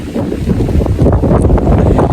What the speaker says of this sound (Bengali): সেই সাথে প্রচণ্ড পরিমাণে বাতাসও হচ্ছে